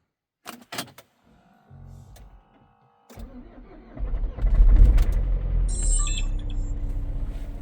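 A diesel car without engine preheating is started in -3°C cold: a few short clicks, a low starter hum, then a brief crank, the engine catching with a loud rumble that settles into a steady idle.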